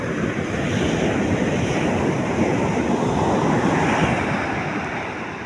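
Sea waves foam and wash onto a beach in a steady, dense roar, with broadband rushing water and some wind buffeting the microphone. No voices.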